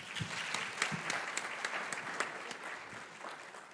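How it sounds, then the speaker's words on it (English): Steady applause from a crowd, dense clapping that holds for the whole stretch and tapers slightly at the end. "I think you guys should give yourselves a round of applause."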